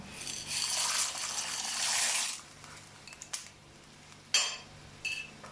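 A dry rattling pour of macaroni tumbles into a pot of water for a couple of seconds, followed by a few light clinks and taps.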